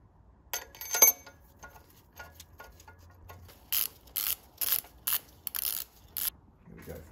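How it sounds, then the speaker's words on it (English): A wrench torquing cylinder head bolts on a BMW E36 M52B30 stroker engine, heard as close, sharp ratcheting clicks that come in quick bursts between quieter handling sounds. "Now it is installing the head bolts and doing the first of three torque sequences."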